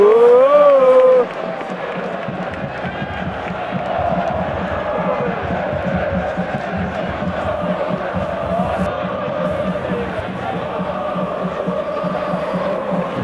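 Sparta football fans fill a stadium with a loud, sustained roar of chanting and cheering, a dense crowd wash that swells at the start and keeps rumbling steadily throughout.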